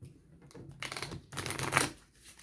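A deck of oracle cards is shuffled by hand, giving close, crisp riffling and flapping bursts that build over about two seconds, with no voices.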